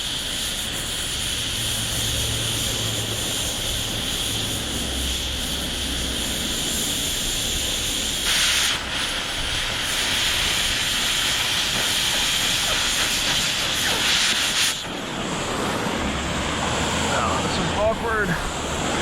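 Cutting torch slicing through heavy scrap steel on a 40-ton scrap job, a loud, continuous roaring hiss that holds steady throughout with small shifts in tone.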